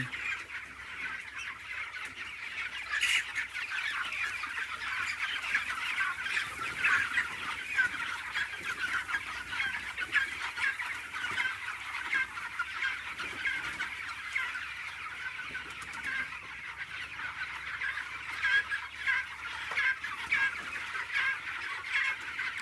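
Poultry chickens, about twenty days old, clucking and chirping in a farm shed on a cold, foggy morning, a dense, continuous chorus from many birds at moderate level with no voices.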